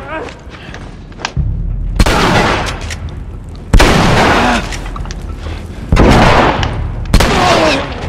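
Molotov cocktails thrown and bursting into flame in The Last of Us, four loud, sudden booms spaced a second or two apart, each followed by a roaring fiery rush.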